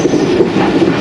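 The Jaffar Express, running on a single-line track between Lahore and Rawalpindi, rumbles loudly and steadily up close, its carriages producing a dense continuous roar with faint rhythmic clatter.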